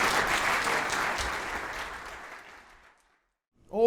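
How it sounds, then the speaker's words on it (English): Conference audience applause, a full burst of clapping that tapers off over about three seconds into silence before a voice begins speaking. "Big applause to Madame Glenier."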